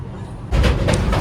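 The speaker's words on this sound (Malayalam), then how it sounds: "അങ്ങനെ ട്രെയിൻ ഇപ്പോൾ ഷൊർണൂർ റെയിൽവേ സ്റ്റേഷൻ്റെ അടുത്തെത്താനായിട്ടുണ്ട്" Inside a coach of a 19-coach Vande Bharat train running between Kozhikode and Ernakulam near Shoranur, a soft hum swells suddenly into a loud rumble with rhythmic rattling bursts.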